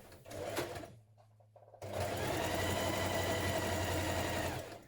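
A sewing machine stitches dungarees fabric, a short burst of whirring, a brief pause, then a long, steady, close mechanical drone of rapid stitching.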